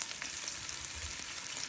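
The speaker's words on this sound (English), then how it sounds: "as soon as you hear the sizzling, you can see you get the suqaar" Cubes of beef suqaar fry in hot oil with a steady, even sizzle, a soft continuous crackling hiss with no one talking.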